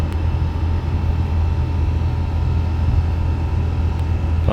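Airbus A350 jet engines during a smooth takeoff climb in Microsoft Flight Simulator 2024: a steady, loud low roar and hum from the cockpit, continuous and unbroken with no talk.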